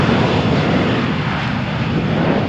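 A Jet2 airliner bound for Newcastle takes off from runway 13 at Malaga Airport on a stormy morning, its engines a loud, continuous close roar throughout, with no voices.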